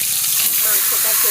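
Chicken pieces dropped into hot mustard oil give a loud, steady steamy hiss and sizzle that fills the whole moment, close and continuous with faint crackles near the end.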